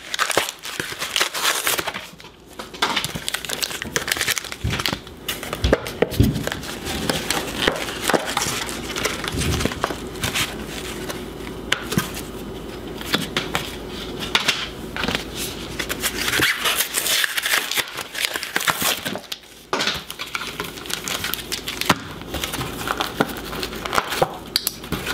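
A Pokemon TCG Sword & Shield three-pack blister is opened: loud, close crinkling and crushing of plastic and cardboard packaging goes on for the whole stretch, with bursts of tearing and rustling and no talking.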